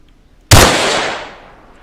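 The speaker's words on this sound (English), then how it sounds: "Heaps of shots around me again." A single loud, close gunshot in the video game Arma 3, a sudden sharp crack followed by a long fading echo that rings out for over a second.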